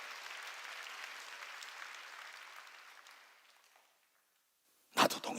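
A church congregation claps steadily for several seconds, the applause fading to near silence before a sharp burst of noise at the end.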